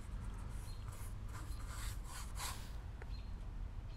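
A brush works thick plastic trim protectant into a car's plastic trim with a steady scrubbing rub, close and continuous at low volume, with slight strokes swelling and fading.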